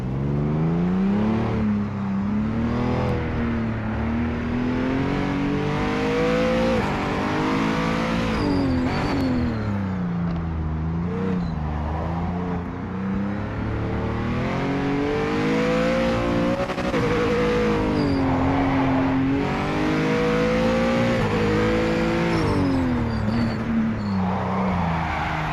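A race car in the Project Motor Racing video game, run on cold tyres, revs loud and constant, its engine pitch rising and falling through shifts and braking, with brief tyre squeal.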